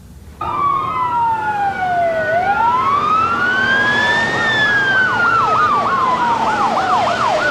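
Several loud emergency sirens wail together nearby, one sweeping up and down slowly, then switching to a rapid yelping warble.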